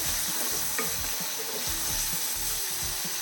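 Shallots and green chillies sautéed in a pan, with a continuous frying sizzle under rhythmic spoon-scraping strokes about twice a second, close and loud, with no voices.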